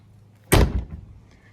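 A latch is raised and the door of a HISUN MP9 750R side-by-side swings open, a single sharp clunk followed by a short rattle, close by and alone.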